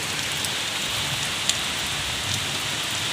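Heavy rain pouring down during strong wind, a dense, steady hiss with scattered drop impacts, loud and continuous with no voices.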